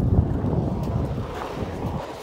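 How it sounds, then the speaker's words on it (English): Steady wind buffeting the microphone out on a frozen lake, a low rumbling roar that stays constant throughout with no voices. "It is windy out here"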